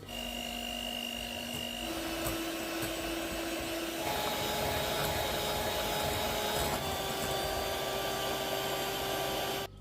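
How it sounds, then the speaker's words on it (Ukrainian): Electric hand mixer whirring steadily through kefir muffin batter, loud and close, a continuous motor hum that shifts pitch as speed changes, running nearly ten seconds without talk. "я взяла та перемішала міксером"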